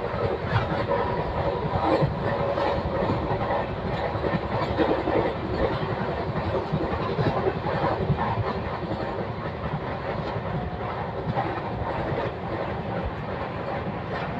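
A train rolls along the Pune to Kurduwadi line, heard up close as a loud, unbroken rumble with busy wheel clatter and rattling carriages.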